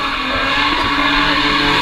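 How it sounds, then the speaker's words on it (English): A McLaren 720S sports car at the Goodwood Festival of Speed revs loudly and steadily up close, a dense continuous engine roar with no talk over it. "This is the 720S McLaren."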